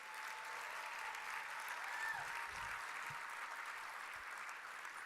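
An event audience applauds the musical director and his band, a steady, continuous spread of clapping from a large room, fairly distant and even, with a faint murmur underneath.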